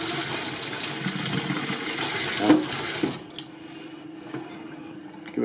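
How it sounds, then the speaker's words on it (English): Tap water runs into a plastic spray bottle that already holds vinegar, a close, steady splashing rush for about three seconds, then it cuts off and leaves quiet room noise. "Put some water in."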